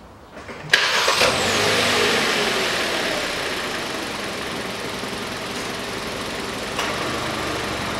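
A 2016 Hyundai Solaris engine cranks and catches with a sharp onset, then settles into a steady, close idle that runs evenly for several seconds with no talking.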